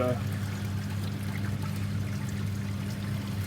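Sparging the mash for a wheat beer brew, hot water pouring and trickling steadily and close at hand, with a low hum running underneath throughout.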